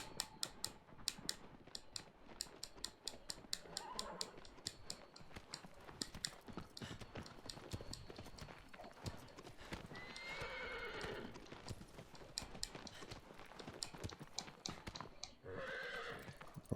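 A horse gallops in the video game Shadow of the Colossus, rapid rhythmic hoof clip-clops with a few whinnies and snorts breaking through, heard alone at a moderate level.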